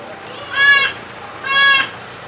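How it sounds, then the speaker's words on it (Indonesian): Two goats on a goat farm bleat in turn, each call a loud, wavering cry of under half a second, with a short pause between them and a faint hum of the pen underneath. "Ternak kambing."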